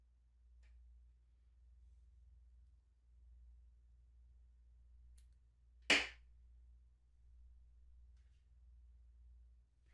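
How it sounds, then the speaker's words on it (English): A single sharp snip of scissors cutting vape coil cotton close against the deck of an Innokin Ares 2 RTA, heard once, near and fairly crisp, over a quiet low hum. "Hold the cotton down to the deck and cut it where it touches the deck."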